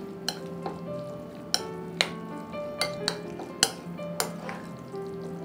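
Guacamole with cream or curds and salt being mixed in a bowl, a spoon knocking the sides in sharp, ringing clinks roughly every half second over a quiet background.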